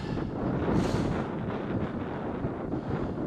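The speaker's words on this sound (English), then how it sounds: "being at the peak, it's even windier" Strong wind gusts buffet the microphone at a Scottish hill summit on Ben Cleuch, a steady low rumble with brief stronger gusts, loud and continuous without talk.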